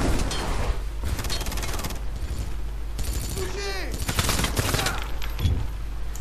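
Dense, continuous weapon fire from the shooter game Wanted: Weapons of Fate, with rapid loud bursts and sharp sweeping whoosh effects over heavy game music and background noise.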